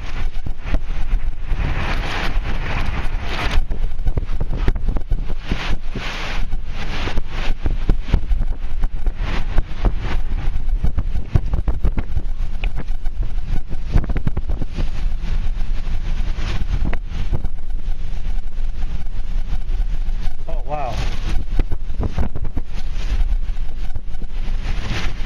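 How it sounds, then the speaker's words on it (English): Strong sandstorm wind roars continuously in an outdoor parking lot in Phoenix, Arizona, buffeting the microphone with loud, unbroken gusts and rumbling. "The wind's picking up again."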